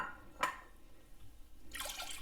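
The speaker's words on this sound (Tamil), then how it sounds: "இந்த கப்புக்கு நான் ரெண்டு கப்பு தண்ணி சேர்த்துக்கிறேன்" Water being poured into a pressure cooker while cooking moong dal payasam: a brief splash, a quiet pause, then a steadier rushing pour, close and alone.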